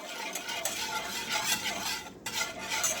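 A whisk beats melting cream cheese into hot milk in a pot, a quick rhythmic swishing and light metal tapping, fairly soft and close.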